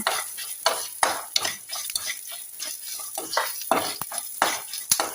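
A spice ingredient dry-roasted and stirred in a pan for a mango menasukai dish, with steady scraping and stirring strokes and light sizzling throughout, close and fairly loud.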